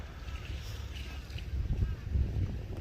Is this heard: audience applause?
no